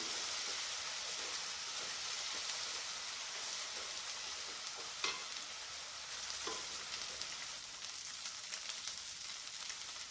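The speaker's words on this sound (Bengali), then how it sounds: "এবার একটু এটা করব একটু কষে নিই গ্যাসটা একটু আঁচতে দিয়ে দিচ্ছি" Masala sautéing in a pan over a gas stove for a prawn malai curry, a soft steady sizzle throughout with a few faint stirring scrapes, no voices.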